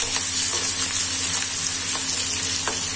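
Chopped onions and green chillies fry in hot oil in a pan for samosa filling, giving a loud, steady, close sizzle throughout with faint stirring ticks, and no voices.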